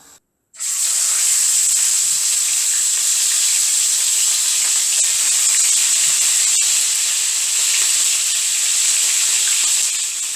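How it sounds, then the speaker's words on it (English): Loud, steady sizzling of burgers frying in a pan, a continuous bright hiss that starts abruptly and holds for ten seconds with no talking. "We're going to put the burgers into the pan and let them sizzle."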